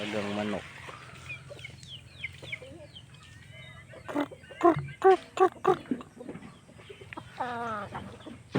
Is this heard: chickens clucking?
yes